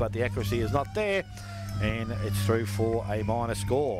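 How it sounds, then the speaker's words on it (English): A long, steady end-of-quarter siren sounds at a local Australian football league match, marking three quarter time, holding a constant tone across the clip beneath continuous excited commentary. "Well, that is the siren. Three quarter time."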